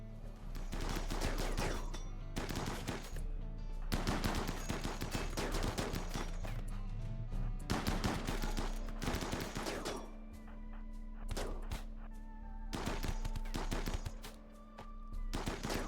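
Volleys of gunfire crack out during a raid siege in the video game RimWorld, dense bursts of rapid shots in repeated waves, loud and continuous with brief thinner gaps, over a low steady rumble.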